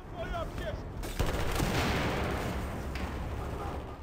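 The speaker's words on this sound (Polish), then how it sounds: "No widzicie, Claymora właśnie, zabiłem gościa Claymorem." Battle noise fills the Metro map in Battlefield 4, with a Claymore mine blast followed by a dense, rolling roar of gunfire and explosions that stays loud and sustained throughout.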